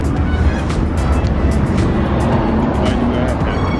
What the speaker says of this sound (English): I can hear an exhaust, but I can't see where it's coming from.